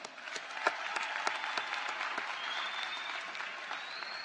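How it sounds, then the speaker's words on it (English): Graduates and guests applauding honors graduates at a Bowie State University winter commencement ceremony, a steady, fairly distant crowd clapping with a few sharper individual claps standing out. "Please join me in giving all of our honors graduates a round of applause."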